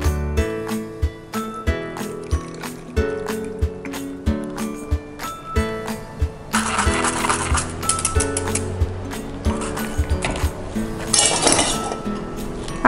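Strawberry pudding mixture stirred in a pot with regular clinking of a utensil against the rim, followed by a rougher rushing pour as the liquid is strained, close and fairly loud.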